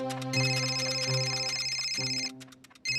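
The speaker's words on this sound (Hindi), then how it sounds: "फोन बज रहा है।" A telephone rings with a steady electronic ringtone, loud and close, its repeating tone pattern holding for over two seconds before cutting off briefly and resuming.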